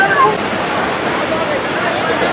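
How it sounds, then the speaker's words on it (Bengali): Mayabi Jhorna waterfall at Jaflong roars as a loud, dense, continuous rush of falling water heard up close. "এই তো হচ্ছে মায়াবী ঝর্ণা দৃশ্য আপনারা দেখতে পাচ্ছেন"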